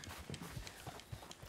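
Horse hooves clip-clop in Red Dead Redemption 2, a quiet run of uneven dull thuds as the animal shifts and steps about, soft and fairly close, with no speech.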